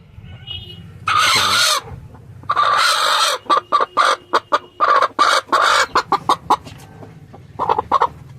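Rasangi Gold breed chickens cluck loudly and close by on a breeding farm. There are two long squawking calls, then a rapid run of short, sharp clucks that tapers off into a few final calls.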